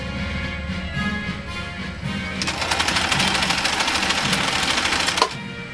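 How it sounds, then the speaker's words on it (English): Husqvarna Viking sewing machine with a 1-amp motor running a straight stitch through eight layers of heavy-grade U.S. Army fabric, a fast steady mechanical whir and rapid needle clatter that starts up loud and close, then stops abruptly. "This Swedish Beauty has a 1-amp motor. Let me tell you one thing. It loves sewing heavy grade."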